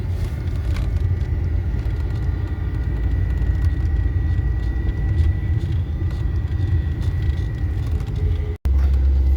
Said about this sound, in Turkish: Şu arabayı gaza alayım.